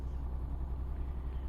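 Low, steady truck engine drone in Euro Truck Simulator 2, a continuous rumbling hum with no talking over it.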